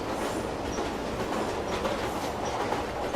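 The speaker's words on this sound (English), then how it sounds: "Why are subways so open like that anyway to where the train comes?" A subway train rumbles steadily past in a Silent Hill 3 game scene, with continuous broadband roar and faint clatter throughout, no voices.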